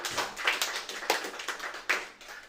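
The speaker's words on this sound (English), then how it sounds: "That was a timid clap." A few scattered, hesitant hand claps from a sparse audience at a live comedy show, irregular and thin with gaps between them, close and fairly quiet.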